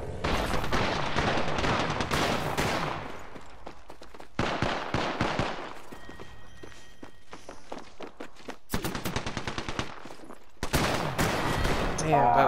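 Shotgun blasts and other gunfire in a shooter video game: loud bursts in several separated clusters, with footsteps, quieter pauses between them and players talking.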